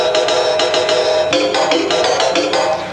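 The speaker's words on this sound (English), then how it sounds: "If you want a little bigger cymbal, you go down a note." Lower-pitched cymbal sample triggered on a Fairlight synthesizer, a series of bright, noisy metallic hits in quick succession, close and fairly loud, with no talking.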